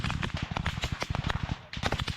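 Sustained bursts of machine gun fire from a Ukrainian gunner in combat, dense rapid cracks in close succession with a short pause before the firing resumes, loud and near.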